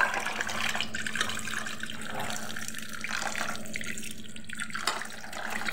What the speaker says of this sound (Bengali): তবুও কিন্তু এটাকে 4-5 বার ধুয়ে নেওয়া বেটার।